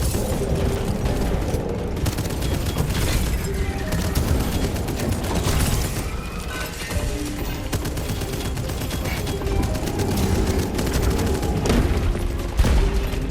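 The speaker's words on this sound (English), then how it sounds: "So I just threw a grenade" Constant video-game combat with a thrown grenade exploding amid dense gunfire, rapid bursts and booms filling the whole stretch loudly, no talk over it.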